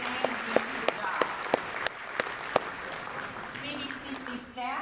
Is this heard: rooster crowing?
no